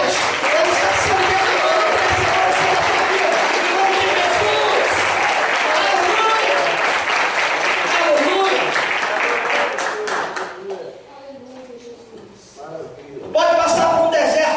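Church congregation applauding loudly and steadily for about ten seconds, then fading into quieter crowd sounds before a brief renewed burst near the end.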